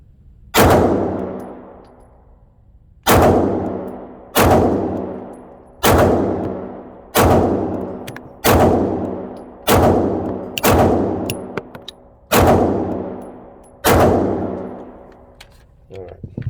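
Walther PDP pistol fired outdoors: about ten loud, sharp shots spaced a second or two apart, each with a ringing decay.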